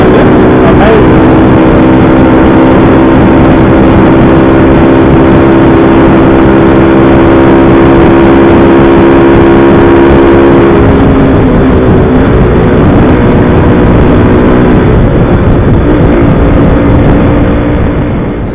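A small Grom-clone stunt motorcycle with new bars runs steadily for most of the ride, its engine note holding strong and loud before easing off toward the end, with no talking over it.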